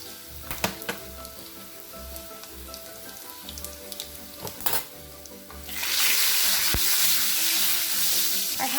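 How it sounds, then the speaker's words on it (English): Hing and turmeric powder sizzle in hot oil for a simple rasam, with a few clinks and stirring sounds at first, then a sudden loud, steady frying hiss close up, with no talking. "Now add the hing and turmeric powder."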